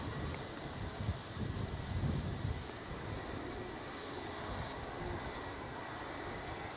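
Boeing 787 Dreamliner engines starting up at Edinburgh Airport give a low, windy rumble from a distance, with faint gusting swells early on before settling into a steady drone.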